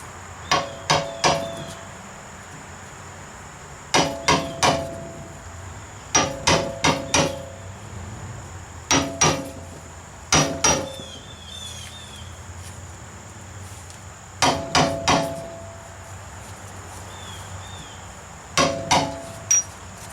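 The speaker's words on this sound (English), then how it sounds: "I have a 39 millimeter socket I'm going to use to hammer it in with." A new transmission seal is driven in with a 39 mm socket, sharp metallic hammer taps landing in quick clusters of three to five with short pauses between, close and clear, no talking.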